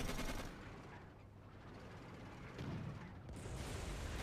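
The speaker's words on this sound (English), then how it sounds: "We're under fire." Dense gunfire rattles through a World War II tank battle in Codename: Panzers, continuous bursts of machine-gun fire and shots at moderate distance, fairly quiet in the mix with no talk.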